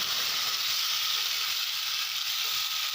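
Bhedailota and Narasingha leaf paste sizzles in a hot pan, a steady close frying hiss that holds without a break.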